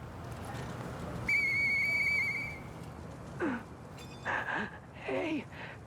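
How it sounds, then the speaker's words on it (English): Toy whistle blown in the Lies of P video game, one sustained clear tone lasting under a second, followed by a few short game sounds and faint thuds at moderate loudness. "I know that whistle."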